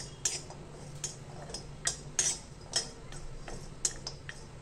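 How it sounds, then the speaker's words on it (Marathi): Dry ginger stir-roasted in a pan while preparing a Satara-style masala, giving light irregular clinks and scrapes of a spatula against metal over a low steady background hum. "थोडासा परतून घ्यायचा आहे सुंठ आपल्याला"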